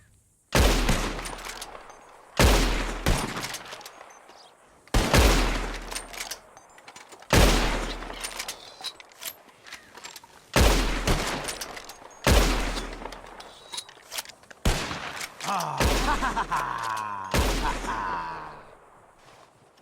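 Gunfire in Red Dead Redemption 2 as players shoot at birds, loud close bursts of shots repeated about every two to three seconds, each trailing into echoing decay.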